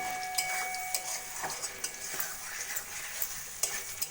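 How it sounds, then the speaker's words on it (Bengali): Garam masala powder being stirred into a pot of hariyali chicken curry, with a low steady sizzle and frequent light scrapes and taps of the spoon, quiet and close, with no talking. "গরম মশলার গুঁড়োটা ভালো করে মাংসের সঙ্গে মিশিয়ে নেব।"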